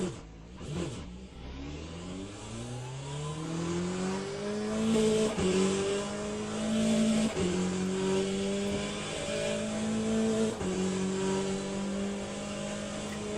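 Race car lapping in Le Mans Ultimate, its engine revving up through the gears in repeated rising whines with sharp shift breaks, loud and close, with a brief burst of noise at the start.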